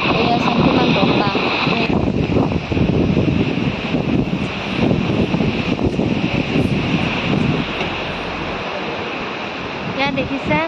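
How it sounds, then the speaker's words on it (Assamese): Strong wind buffeting the microphone at a scenic viewpoint, a loud, continuous roaring rush that barely lets up, with a person speaking under it. "এয়া চাওক কিমান বতাহ।"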